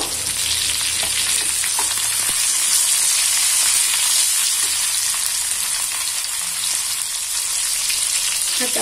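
Ginger garlic paste and asafoetida frying in hot oil make a steady, loud, close sizzle that runs unbroken throughout with faint stirring underneath and no talking.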